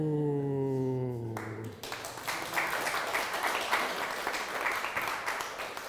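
A lecture audience bursts into loud, sustained applause for volunteer Alex after a magic trick at a talk on hoaxes, dense clapping that fills the room. Brief speech and a held tone lead into it.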